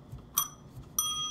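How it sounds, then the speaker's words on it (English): A small bell rings twice, first as a short bright strike and then as a longer ringing tone that hangs on to the end, heard fairly close in a quiet room. "My bell is so sad today."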